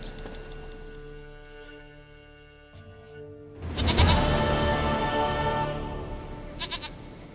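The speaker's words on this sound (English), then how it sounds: "Goat of mine, dearest," A goat bleats in the video game The Witcher 3: Wild Hunt. A quiet musical backdrop gives way to a loud, wavering bleat that carries on for several seconds.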